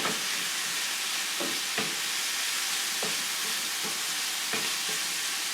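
Stirring hot sauce into a meat sauce in a frying pan, a constant loud sizzle with a few soft scraping strokes of the spoon every second or so, close up.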